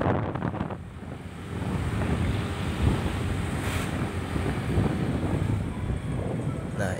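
River water flows beside the Pejengkolan dam, a steady rushing wash buffeted by wind noise on the microphone, loud and continuous.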